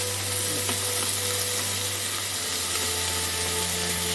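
Potatoes and fennel leaves sizzle steadily in a hot pan, a constant close frying hiss with faint scraping from occasional stirring and no voices.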